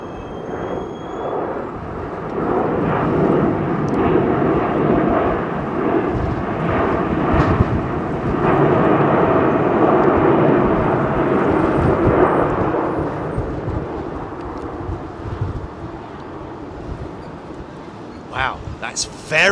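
Airbus A350 airliner arriving from Lagos landing at London Heathrow and braking early, a broad rumbling roar that swells and fades, heard from a distance with people talking over it.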